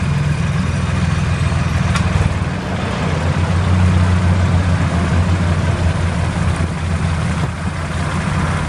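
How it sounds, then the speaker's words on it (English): A Clark DPR30 6K rough-terrain forklift's 3-cylinder Perkins diesel engine runs at a steady idle, close and loud, with a low throbbing chug and constant mechanical hum, no talk. "It's got a 3-cylinder Perkins diesel engine, runs strong."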